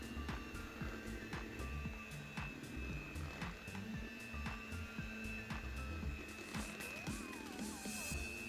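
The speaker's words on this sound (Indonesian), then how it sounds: "kita lanjutkan aduk pakai mixer dengan kecepatan masih yang paling rendah ya" An electric mixer runs at its lowest speed, stirring nastar cookie dough: a steady low motor whir with a continuous hum and soft irregular knocks and scrapes, close and moderately loud, with no talking.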